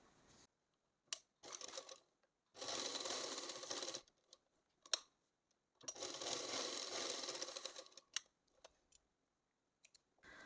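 A sewing machine stitches a tuck on a saree blouse in two sustained, fairly loud whirring runs. Short clicks and handling taps sit between them and before and after.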